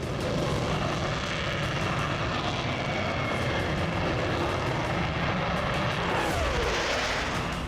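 An LCA Tejas fighter jet flies past with a loud, continuous roar that fills the whole clip, its pitch sweeping as it passes near the end.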